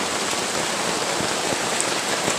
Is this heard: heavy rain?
yes